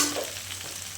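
Eggplant going into vegetables already frying in a pan, a short, close burst of hissing sizzle that softens slightly over about a second.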